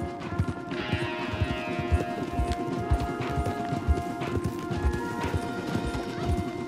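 Horses clip-clop steadily along a path in Red Dead Redemption 2, a dense run of close, crisp hoof strikes over ambient game sound, with a brief whinny early on.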